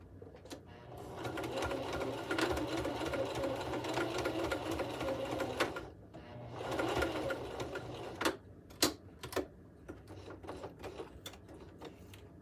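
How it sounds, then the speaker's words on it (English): A sewing machine runs top stitching along the seam of a Japanese knot bag wristlet, buzzing in two steady near bursts of several seconds each, then a few short stop-start stitches toward the end. "I'm actually going to top stitch here along with the seam, or along with the stitch line."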